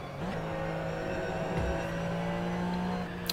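Race car engine in the Assetto Corsa Competizione racing simulator, a steady droning hum with a rising pitch sweep partway through, loud and continuous with no talk.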